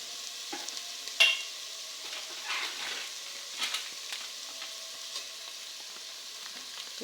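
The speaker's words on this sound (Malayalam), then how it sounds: "നന്നായിട്ടൊന്ന് ഇളക്കിയെടുക്കാം" Masala macaroni pasta being stirred in a pan with turmeric, giving soft scraping and clicking strokes over a faint sizzle, close and fairly quiet, with no talking.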